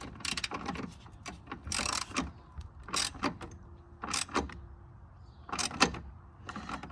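A ratchet wrench tightening the battery hold-down in a Cadillac Escalade, giving bursts of rapid metallic clicking in short strokes with pauses between, close and fairly loud, with no talking.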